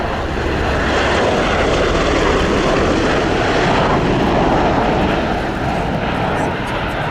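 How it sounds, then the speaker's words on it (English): A Bell Boeing CV-22B Osprey tiltrotor aircraft of the USAF makes a final pass at a flight demonstration, a loud, continuous roaring drone of engines and rotors that stays close and powerful, with a voice faintly audible beneath it. "Final pass before departure for the Osprey."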